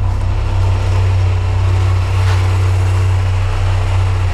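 A 2006 Honda Silver Wing 600 ABS scooter idles just after starting, a loud, close, even low engine drone that holds steady throughout with no talk.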